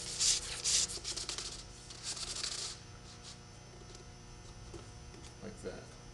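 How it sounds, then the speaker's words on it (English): A plastic hinge slides into the groove of a DirectAire inlet profile, making a few close, short scraping rubs followed by quieter handling noises. "We take this hinge and it slides into this groove."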